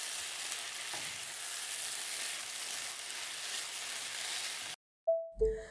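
Food sizzling and frying in a pan as dinner is cooked at home on a Friday evening, a steady broadband hiss running for nearly five seconds before cutting out, followed by a short tonal ring.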